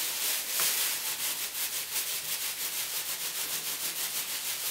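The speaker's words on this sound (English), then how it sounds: "And just rub gently on the area that's giving you pain in the direction that you've laid the fibre." Hands rubbing wet wool fibres laid on fabric during nuno felting of a scarf, a steady rhythmic swishing friction repeating about every quarter second, close and continuous with no talk.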